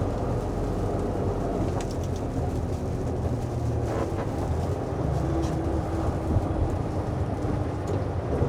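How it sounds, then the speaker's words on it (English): Freezing rain pelting a snow plow truck, a steady dense hiss and patter of drops on the vehicle with a low rumble underneath, continuous and fairly loud throughout. "freezing rain's hitting now."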